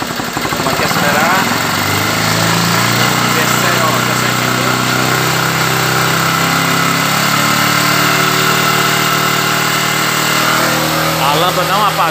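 A 2007 Honda CG 150 ES motorcycle engine, which has a battery-draining fault, runs loud and close, its pitch shifting as it is revved under brief talk.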